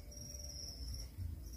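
Steady high-pitched chirping of crickets at a cricket farm, a continuous thin trill held at low level, with a faint low rumble underneath.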